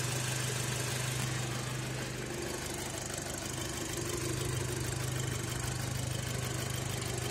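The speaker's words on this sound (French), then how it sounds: "Ça fait toujours son bruit de tracteur" A 2006 Audi A3 2.0 FSI petrol engine idles with a tractor-like clatter, a constant close mechanical rattle and hum that runs steadily throughout with no voices.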